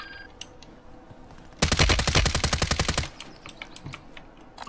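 Automatic gunfire in the Warzone video game: a loud, rapid burst of shots lasting about a second and a half mid-clip, with quieter game ambience before and after.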